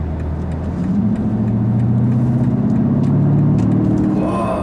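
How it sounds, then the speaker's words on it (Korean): A BMW X5 with a naturally aspirated-sounding V8 producing a deep, steady rumbling drone heard from inside the car, loud and continuous, the pitch climbing gently as it builds toward the end, with no talking. "이거는 artificial가 아니야. 이건 그냥 그 natural V8 그 소리."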